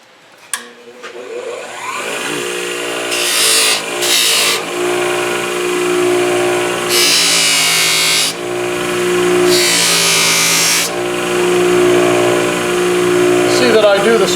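A knife being polished on a motor-driven buffing wheel in a handmade knife workshop, a continuous loud machine whine with repeated bursts of harsher hissing as the blade is pressed against the wheel.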